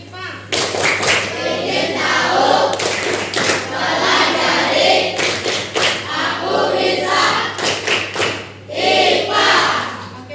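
Students in a classroom performing the rhythmic 'tepuk IPA' clapping chant, loud bursts of group clapping in a patterned beat mixed with shouted chanting voices, close and energetic over about ten seconds.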